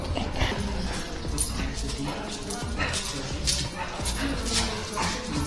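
A dog barks, yips and whimpers in repeated bursts close by, an agitated mix of short barks and whines with someone talking over it during car detailing work.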